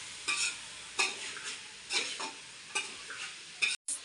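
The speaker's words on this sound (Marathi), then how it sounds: "आता पहिलं फ्राय करून घेते पाच मिनिटं शिजवते भाजी" Vegetables for veg pulao fry in a pan while a spoon stirs them in short, spaced scraping strokes, each about a second apart, over a faint sizzle.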